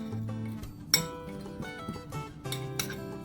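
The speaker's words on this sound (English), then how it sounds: "I'm gonna mix this up really quick before I add my beer" Seasoned beer-batter base of garlic powder and Old Bay being mixed in a bowl for shrimp tacos, heard as quick clinks and scrapes of a utensil against the dish, close and fairly loud with no talk.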